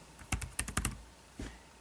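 Typing on an Asus Transformer Pad Infinity mobile dock keyboard gives a quick run of five or six crisp key clicks, then a single softer tap, close and quiet with no voices.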